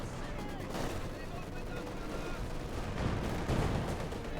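Company of Heroes 2 real-time strategy battle with scattered gunfire and machine-gun bursts rattling over a dense war-game din, moderately loud and continuous, with a commentator's voice running underneath.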